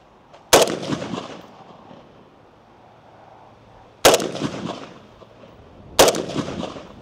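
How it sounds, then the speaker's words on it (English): Three loud, sharp gunshots from a PSA Krink rifle firing steel case ammo ring out outdoors at irregular intervals, each crack followed by a rolling echo that decays over a second or more. "he can shoot mine for 9 shots with steel case ammo"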